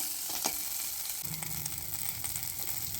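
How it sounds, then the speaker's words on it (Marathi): A tempering of garlic, green chili and curry leaves fries in hot oil, a steady bright sizzle with occasional soft stirring scrapes, close and continuous with no voices. "फोडणी चांगली परतवून घ्यायची।"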